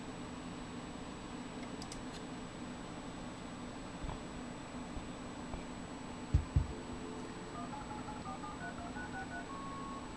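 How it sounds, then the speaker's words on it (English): A magicJack fax machine dialing a telephone number: short, faint tone beeps in a quick sequence over a low hum, with a few soft clicks and handling noises. "It's going to dial the number and you'll probably be able to hear it."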